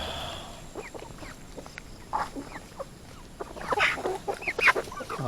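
Free-range chickens on a farm in Bauang, La Union, cluck and squawk in scattered bursts, growing louder and busier toward the end, heard close against soft outdoor background noise.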